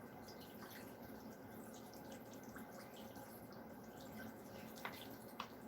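Water from a tap runs into a pot of chicken bones for stock, making a continuous, quiet splashing stream with occasional faint drips and a couple of small knocks, heard alone without speech.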